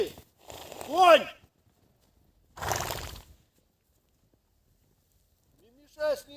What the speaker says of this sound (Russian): Конь, уйди!